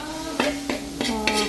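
Chili, coriander, turmeric and fenugreek powders being sautéed for a fish curry: four sharp spoon scrapes and knocks against the pan, evenly spaced over a steady sizzle, close and loud, with no talking.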